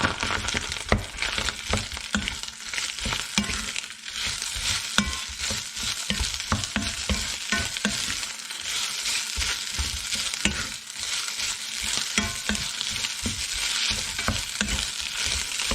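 Rice stir-fries in oil for crab fried rice, a loud, close sizzle broken by rapid, repeated clattering scrapes of a utensil against the pan throughout.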